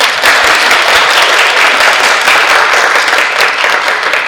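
An audience claps at a presentation on HIV treatment, a dense, even wash of applause holding steady for about four seconds, close and loud without speech over it.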